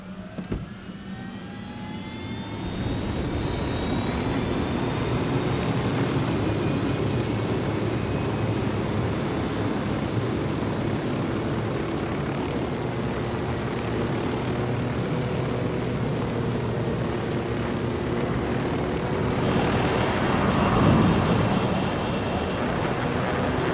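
Aircraft piloted in the Ghost Recon Wildlands video game, a continuous loud engine roar with a steady whine and slowly shifting pitch, swelling slightly near the end, with no talk.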